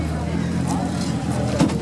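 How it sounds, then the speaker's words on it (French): A white Renault passes close by on the street, its engine a low steady rumble, mostly masked by someone talking over it. "Regardez, belle Renault blanche là qui passe."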